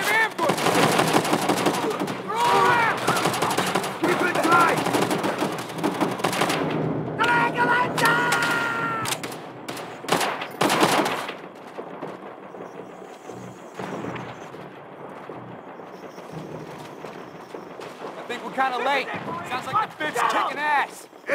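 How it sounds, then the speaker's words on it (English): Machine gun fire from bunkers in Call of Duty: World at War, with dense bursts of automatic gunfire and thuds alongside shouted voices, loudest in the first half and thinning toward the end. "MG's in the bunkers up ahead."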